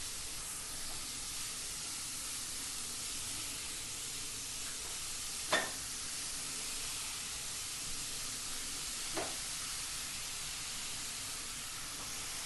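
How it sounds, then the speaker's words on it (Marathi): Chopped onion and cabbage sautéing in a pan for momos, a soft continuous sizzle and hiss with a couple of brief stirring scrapes, quiet and close, no talk. "ते चांगलंपणे आपण परतून घेणार आहोत"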